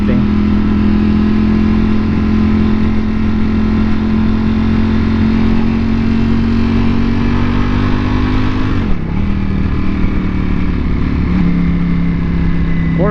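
A Porsche convertible drives past, a loud close engine drone that holds steady for several seconds, shifts pitch sharply mid-pass as it goes by, then settles again.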